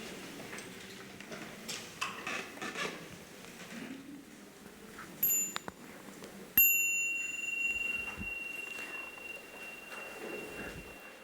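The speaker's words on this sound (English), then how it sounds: "So now with the next small sound of the bell," A small meditation bell at a Buddhist Vesak celebration rings with one clear strike after a couple of fainter taps, leaving a pure tone that hangs and slowly fades in a quiet hall.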